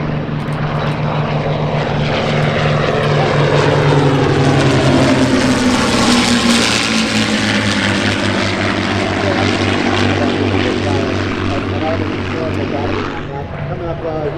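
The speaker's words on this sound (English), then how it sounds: "These are fighters here, the Zero, the Mustang, and the Spitfire." Propeller fighter planes, a Zero, a Mustang and a Spitfire, roar past at an airshow, their loud engine drone rising and then falling with a clear Doppler sweep as they pass, with voices faintly audible underneath.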